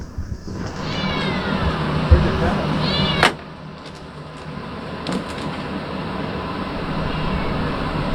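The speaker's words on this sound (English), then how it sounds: "We got a cat somewhere. There's a cat." A cat meows a few times on a mushroom farm in Sherbrooke, Quebec, short rising cries early on over a steady loud background hum, with a sharp knock partway through.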